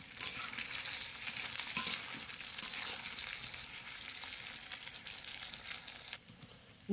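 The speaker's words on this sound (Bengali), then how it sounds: "আলু আর বেগুন কচুরমুখিটা ভাজা হয়ে গেছে। এতে একটু দিয়ে দেবো লবণ, হলুদ আর একটু চিনি।" Fried potato, eggplant and taro being stirred in a pan with salt, turmeric and sugar, a steady close sizzle with scraping stirs and no talk.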